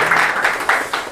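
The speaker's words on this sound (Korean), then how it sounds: "다시 한번 큰 박수 부탁드릴게요" Brief burst of audience applause after a lecture by a veteran taxi driver, a close, smeared wash of clapping with a few stronger surges.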